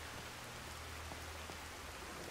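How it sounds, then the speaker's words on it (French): Steady rain falls in modded Skyrim, an even, dense hiss of drops with faint low rumble beneath, continuous and unchanging, with no voices. "c'est bien sympa la pluie"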